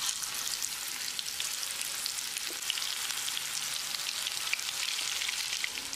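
Yam pieces deep frying in hot oil, a steady close bubbling sizzle with fine crackles throughout and no talk.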